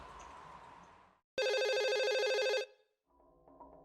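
A telephone ringing in the horror video game Twilight Syndrome; after a short fading tone, a loud electronic ring sounds for over a second, cuts off, then a softer ring begins, clear and alone with no voices.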